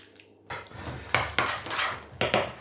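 Metal pans clank and scrape as homemade mushroom ketchup is shifted from a cast iron pan into a stainless steel pan, with several sharp knocks and rattles close by.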